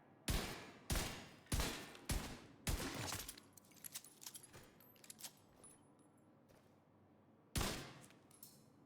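Gunfire in Division 2, a shooter video game: five loud, close shots in a quick, even rhythm, then quieter scattered impacts and clatter, and one more heavy shot near the end.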